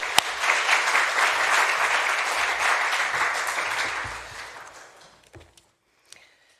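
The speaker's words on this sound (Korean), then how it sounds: "우리 뜨거운 박수로 환영하겠습니다." A church congregation at a Saturday evening revival meeting in Montreal applauds warmly to welcome the pastor, with loud, sustained clapping for about four seconds that then tapers off into near silence.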